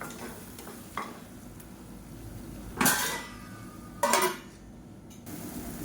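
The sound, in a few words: stirring onion thokku in a pot and covering with lid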